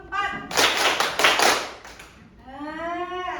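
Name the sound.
students clapping hands in counted rhythm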